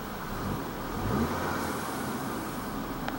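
An Audi car's engine running during a test drive, a steady mid-pitched hum with a slight rise in revs, heard from inside the car with continuous road and cabin noise.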